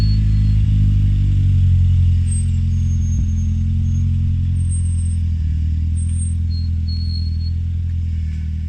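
A red Mark V car fitted with an ST180 engine starts moving off, its low engine hum steady and fairly loud nearby, easing slightly as it pulls away, with no talk.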